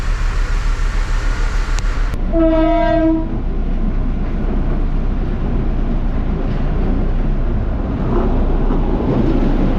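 The Darjeeling Himalayan Railway toy train rumbles loudly and continuously along the track, with a short two-tone horn blast early on standing out above the steady rolling clatter.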